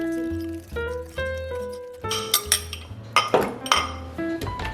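Utensils clink and scrape against a bowl while ingredients for a vegan sweet potato chocolate loaf cake are mixed, a run of sharp ringing taps and knocks close by, irregular and growing busier.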